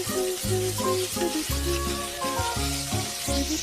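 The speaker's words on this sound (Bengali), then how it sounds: "ফোড়নটা থেকে সুন্দর গন্ধ ছেড়ে দিয়েছি, এবার আমি অ্যাড করছি আম, কেটে রাখা মিশিয়ে রাখা আম।" Cut mango, mixed with seasoning, is dropped into hot oil tempered with green chilli for mango pickle. It gives a loud, continuous close-up sizzle and frying crackle with stirring scrapes throughout.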